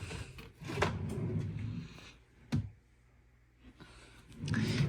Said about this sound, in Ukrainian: Так, Відкриваємо. Ось так. Такі шухлядки доволі глибокі